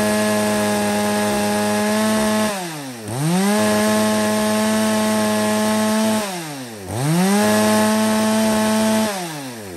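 A used Echo chainsaw runs loud and close, revving up and easing back down in three smooth cycles with a steady, buzzing engine drone and no talk.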